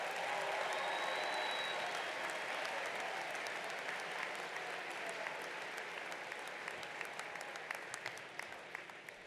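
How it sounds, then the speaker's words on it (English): A large crowd at a 2024 college graduation ceremony keeps up steady, dense applause for the graduates, a continuous wash of clapping that slowly tapers off toward the end, with no one speaking over it. "Let's give one more round of applause to all of our 2024 graduates."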